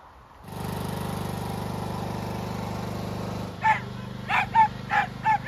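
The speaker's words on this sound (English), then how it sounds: "Come on, you noisy pups." Several dogs bark in short repeated bursts, close by, over a steady motor drone that starts a few seconds earlier.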